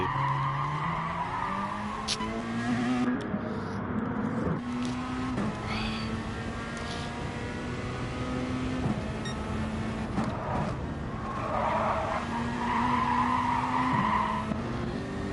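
Race cars in GT Sport at Fuji, including a Corvette and a Jaguar, roar with steady high engine drone and gear shifts, tires squealing and skidding through corners, continuous and loud throughout.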